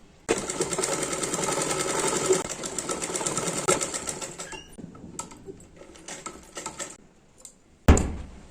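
A sewing machine stitches a kurti in one steady rapid run of about four seconds, then slows into shorter stuttering bursts and ends with a sharp clack.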